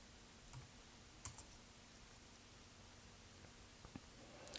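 Faint keystrokes on a computer keyboard, a handful of light scattered clicks with an occasional firmer press like the enter key, in a quiet room with no talking.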